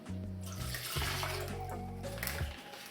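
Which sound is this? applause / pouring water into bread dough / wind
pouring water into bread dough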